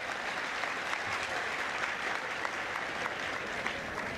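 An audience at a humorous talk claps continuously, a dense and even wash of applause heard from a moderate distance, with no clear voices over it.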